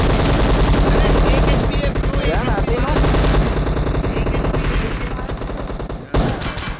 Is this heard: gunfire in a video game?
yes